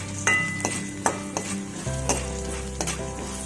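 Ginger sizzles and fries in a pan while a spoon stirs it, with several sharp scrapes and clinks of utensil against metal, close and steady throughout.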